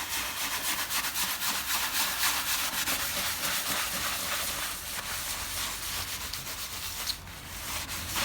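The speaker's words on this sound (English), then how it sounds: "So I'm going to just use a bit of tissue here and see what it's done." Tissue rubs grease off a motorcycle engine part in steady, close, scratchy strokes that stay dense and unbroken for about eight seconds, with no talk.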